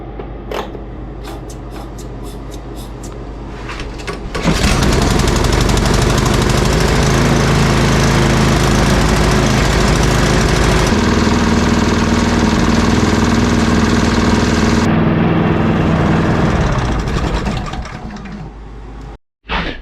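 A snowthrower engine starts with a few sputtering pulls, then settles into a loud, steady running roar for about ten seconds, drops to a slightly lower idle, and cuts off near the end.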